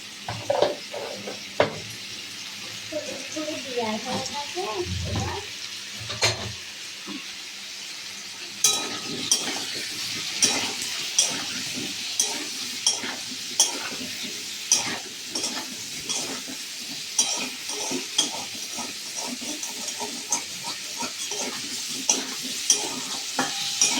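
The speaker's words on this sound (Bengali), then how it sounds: "নুন হলুদ দিয়ে আলুটা ভেজে নেব।" Potato pieces frying in a pan with salt and turmeric, a steady close sizzle broken by repeated scraping stirs of a utensil against the pan, with no talk.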